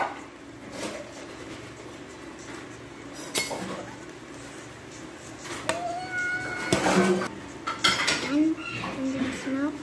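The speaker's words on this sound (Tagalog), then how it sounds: "haluin na po natin yung mga ingredients" Ingredients for mango tapioca pearl dessert, including gelatin, mixed in a bowl, with clinking of utensils against dishes and scraping stirs that grow busier toward the end, while a cat meows nearby and a voice speaks briefly.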